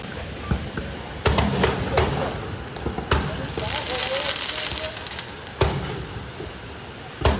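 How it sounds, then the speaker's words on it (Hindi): Two sharp blasts outside Brazil's Supreme Court ring out as loud broadband bangs amid crackling street noise, with several smaller cracks around them and a voice talking over the news footage. "सुप्रीम कोर्ट के बाहर 2 धमाके हुए।"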